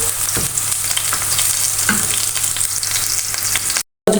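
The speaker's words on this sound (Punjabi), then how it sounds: "ਇਹਨਾਂ ਨੂੰ ਬਰਾਊਨ ਕਰਾਂਗੇ ਇਹਨਾਂ ਨੂੰ ਅੱਧੇ ਬਰਾਊਨ ਹੋ ਗਏ ਥੋੜੀ ਦੇਰ ਹੋਰ ਭੁੰਨਾਂਗੇ" Ingredients for baingan bharta brown in a pan with a loud, dense frying sizzle and occasional stirring knocks, cutting to silence for a moment just before the end.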